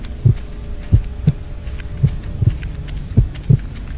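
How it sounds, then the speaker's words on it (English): A heartbeat sound effect in a video game thumps in low, paired beats at a slow, regular pace, loud and close against a faint background hum, with no voices. "Oh, there's the heartbeat again."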